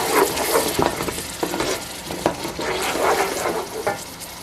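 Tomato sauce is stirred into meatballs in a hot pan for Puerto Rican meatballs. A continuous wet sizzle and stirring scrapes run throughout, close and steady, with no talk.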